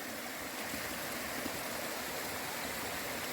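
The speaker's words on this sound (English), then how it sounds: "This is the first flowing water we've seen, probably because of the rain last night." Water runs in a small stream on a Shenandoah National Park trail after overnight rain, giving a steady, unbroken rushing babble that sounds fairly close and continuous.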